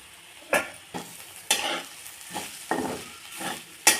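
Ivy gourd with garlic paste, chili powder and fresh coconut is stirred in a pan over low heat: a close, irregular run of about seven spatula scrapes and clacks with soft sizzling between strokes, no voices.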